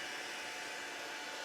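A handheld heat tool used for embossing blows a steady, even rush of hot air, loud and close, with no voices.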